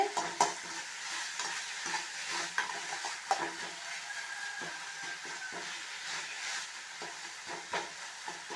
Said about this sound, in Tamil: தக்காளி வெங்காயம் எப்படி வதங்குதுன்னு பார்க்கலாம்